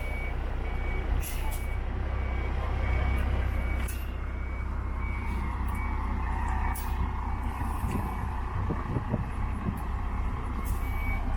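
A large Van Hool coach manoeuvres while towing a trailer, its engine rumbling steadily with reversing beeps and air-brake hisses over continuous low traffic-like noise.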